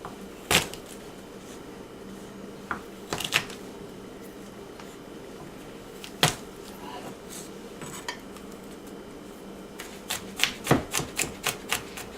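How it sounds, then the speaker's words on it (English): A knife dices peeled garlic on a cutting board aboard a boat, giving sparse sharp taps at first and then a quick run of close chopping knocks near the end. "Alright, I've got my garlic peeled. Now we're just going to dice that up a little bit."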